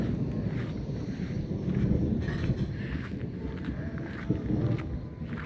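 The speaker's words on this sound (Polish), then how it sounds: "ale ładnie zagrzmiało" A low, rolling rumble of thunder from a light thunderstorm swells amid steady wind noise outdoors, with no voices present.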